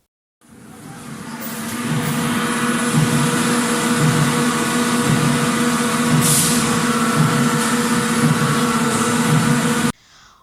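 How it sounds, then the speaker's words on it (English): Loud, steady factory machinery noise, a continuous dense roar with a faint rhythmic pulsing underneath, starting abruptly and cutting off near the end. "What you just heard is a noise in the factory that a factory worker is exposed"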